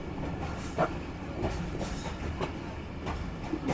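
A passenger train rolls along the Lahore to Rawalpindi line near a station, with a steady rumbling interior drone and repeated clickety-clack wheel beats over rail joints, heard from on board.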